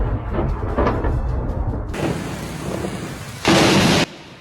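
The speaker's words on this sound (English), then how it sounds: "Lightning struck the city and the streets." Thunder from a lightning storm over Hanoi and its streets, with rain: a rumbling roll, then a sharp loud crack near the end, all under a steady wash of rain and no talk.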